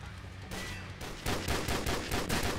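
Rapid gunfire from a fast-firing, heavy-recoil gun in a video game: dense, continuous bursts of loud automatic shots with hardly a break, heard alone without talk.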